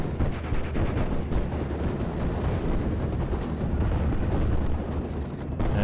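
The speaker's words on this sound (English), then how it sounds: "Betts is bringing in some off-map artillery onto the Churchill and the other units in that forest." Off-map artillery barrage striking a forest position in the Steel Division: Normandy 44 game, a dense, continuous rumble of overlapping blasts and booms with no pauses.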